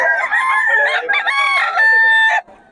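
A stag rooster crowing nearby, one loud drawn-out cock-a-doodle-doo lasting about two and a half seconds, with a faint voice under it.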